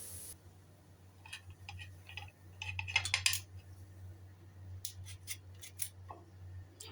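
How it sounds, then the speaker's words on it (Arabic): Knife chopping cucumbers on a cutting board in a home kitchen, a series of quick, light cuts in short bursts, close by, over a steady low hum. "تعالوا بقى نقطع الخيار."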